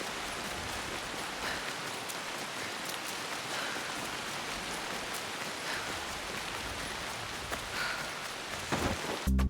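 Steady rain and wind in the Assassin's Creed Shadows video game, a dense, even hiss of falling rain with gusty texture running throughout, with no voices.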